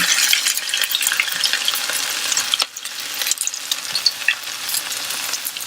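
A grated potato latke hisses and crackles steadily as it fries in hot oil in a pan, a dense continuous sizzle with a brief dip midway, no talking.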